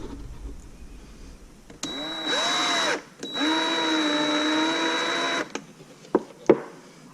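A power drill whines in two bursts, its pitch bending up and down as it bites through a metal plate, followed by a few sharp clicks.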